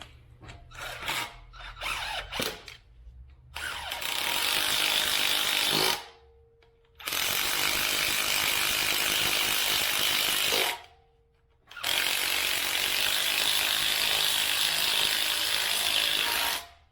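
A brushed-motor impact wrench runs bolts on an aluminum 5.3L engine during a Buick LS swap, with several loud, sustained hammering bursts of a few seconds each, separated by short pauses, after some lighter clattering at the start.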